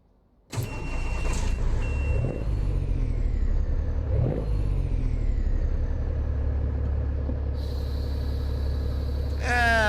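A big rig in American Truck Simulator with an 18-speed transmission cranks and starts, then settles into a deep, steady diesel idle with a brief air hiss near the end.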